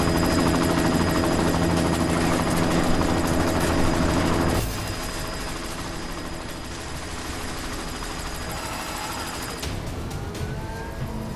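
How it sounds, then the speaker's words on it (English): Helicopter in Deus Ex: Mankind Divided, loud rotor thrum with a tonal engine whine that drops in level partway through, then continues steadily at a slightly greater distance. "You've got to stop that chopper."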